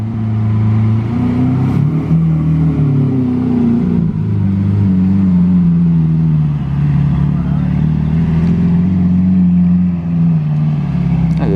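Lamborghini Aventador engine running in sport mode, a loud, deep, continuous V12 drone with wavering pitch as the revs rise and fall, close and steady throughout.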